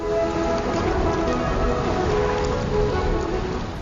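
Steady, loud rain pours down without a break, a dense continuous hiss of drops on surfaces with a faint low rumble underneath, accompanying a telling of Noah's Flood.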